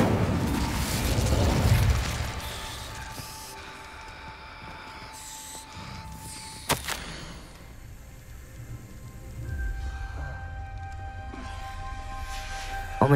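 Incendio fire spell cast in Hogwarts Legacy: a loud, rumbling burst of flame up front that fades, then a sharp crack partway through and a swelling roar near the end, with no talking.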